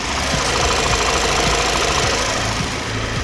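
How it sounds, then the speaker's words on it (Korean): A large gasoline sedan idles with its hood open, a steady, quiet engine hum with a faint rhythmic ticking, recorded close and alone without speech. "휘발유 차량의 대형 세단인 만큼 아주 조용한 엔진 소음 유지하고 있는 차량입니다"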